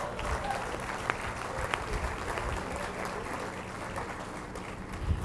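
Steady applause from an audience at a building dedication ceremony for the Tandy Building at OSU Center for Health Sciences, a dense even wash of clapping throughout with no clear talk over it.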